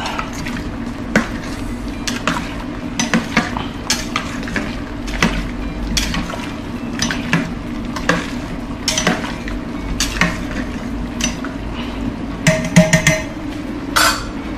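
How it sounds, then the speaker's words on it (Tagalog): Macaroni stirred in a cooking pot, with repeated scraping and clinking of a utensil against the metal sides, moderately close, over a low steady background rumble and no talking. "Yung ating macaroni baka magdikit-dikit, haluin natin."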